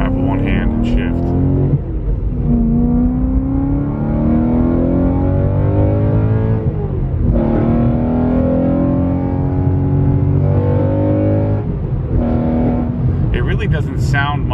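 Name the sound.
loud car engine while driving and shifting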